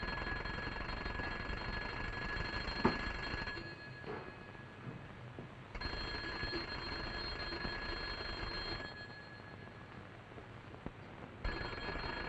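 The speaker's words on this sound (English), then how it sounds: "Jenkins, sound the alarm" An alarm bell rings continuously in bursts, a steady metallic ringing broken by short gaps, moderately loud with background noise and no speech.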